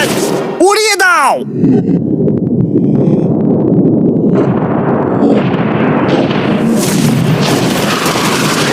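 A yacht is blown up in a loud explosion: a sharp blast opens the clip, followed by a long, dense rumble and roaring debris and fire noise that fills the remaining seconds, with voices faintly mixed in.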